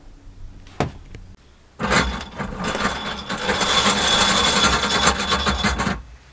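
A ratchet on a 3/4 inch socket turns bolts to raise a homemade bed lift, with a couple of sharp clicks, then a dense run of rapid ratcheting and grinding that stops abruptly.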